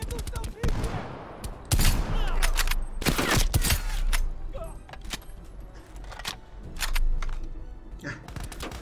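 Sharp video game gunshots crack out in scattered bursts and rapid volleys, mixed with clatter and background game noise, moderately loud throughout.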